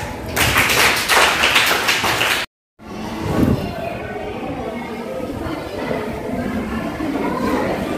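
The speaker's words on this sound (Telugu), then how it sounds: "claps claps" Seventh-class students clap together in a school assembly, a dense, loud burst of many hands that cuts off abruptly, followed by a noisy room with scattered voices.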